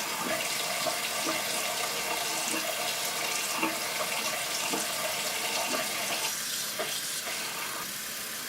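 Makeup brushes swirled in soap and water make a continuous watery wash of sloshing and gentle rubbing, close and steady with faint rhythmic swishes, no talking.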